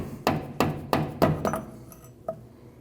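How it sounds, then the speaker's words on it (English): A rubber mallet taps on a drive shaft under a 2012-2021 Nissan NV2500 5.6L V8, about six dull, fairly even knocks that fade toward the end, in a workshop setting. "You can take a rubber mallet and tap on your drive shaft."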